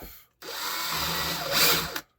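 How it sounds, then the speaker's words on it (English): An electric drill spins a pendulum leader wire from a picture frame clock, giving a steady whirring motor run of under two seconds that rises slightly in pitch before cutting off. "if you put this wire in the drill,"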